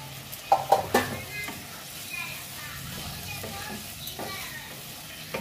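Potatoes and pointed gourd frying in an oily spice paste, with a few utensil clinks and scrapes at the start, then a quiet, steady sizzle with occasional stirring taps.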